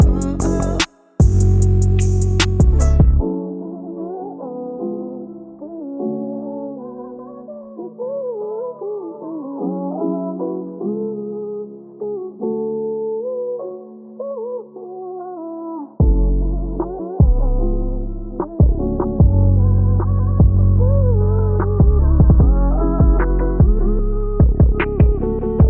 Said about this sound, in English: giving it that effect where it feels like it's like going underwater or like you're holding a pillow over the beat